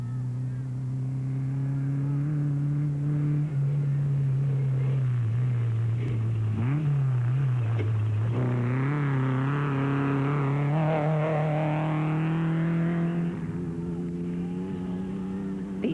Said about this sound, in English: points awaited Pearson Vosloo if they brought the Castrol Toyota Hilux KZTE home 2nd in Class E